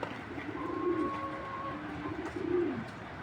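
Racer pigeons coo softly nearby, two drawn-out throaty rolling calls about a second apart over faint background hum, with no talk.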